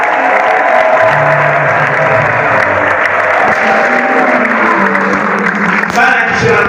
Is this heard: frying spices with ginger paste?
no